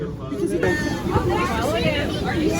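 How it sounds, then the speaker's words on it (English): A bustling crowd exiting a train murmurs and chatters close by, many voices overlapping in a busy babble with footsteps and movement. "So many people are exiting this train"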